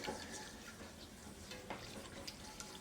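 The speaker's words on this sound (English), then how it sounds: "just keep on stirring that roux because you don't want to burn it" Roux for gumbo being stirred in a pot, a soft, continuous scraping and sizzling with light spoon strokes against the pan, quiet and close, with no talking.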